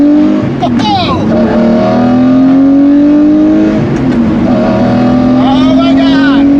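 A Lamborghini Murcielago with a six-speed gated manual revs and drones loudly at close range, pitch climbing steadily as it accelerates, with a voice exclaiming over it at times.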